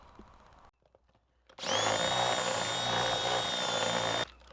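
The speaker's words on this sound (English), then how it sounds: "let's go ahead and drill these holes" A power drill whirs loudly and steadily for a few seconds while drilling holes in a 5th-generation Toyota 4Runner, a high-pitched motor whine that starts abruptly after a short quiet pause and then cuts off.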